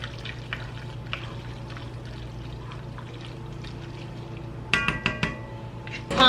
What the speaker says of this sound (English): I'm also going to add just a little bit of this Worcestershire sauce.